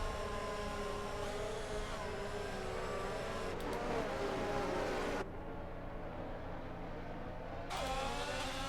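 Race cars restarting a Grand Prix in a video game at a Brazil round, engines droning steadily in a dense pack with rising and falling pitch as they accelerate, loud and continuous, one stretch briefly muffled.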